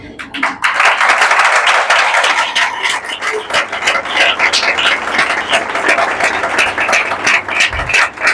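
A congregation at a Hindi-Urdu church sermon bursts into loud, sustained applause, dense clapping filling the room for several seconds with a few voices underneath.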